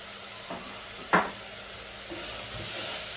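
Whole cloves, cinnamon, cardamom and pepper sauté in hot oil for lamb rice: a faint, quiet sizzle with a couple of sharp clinks early on and a soft, steady hiss building toward the end.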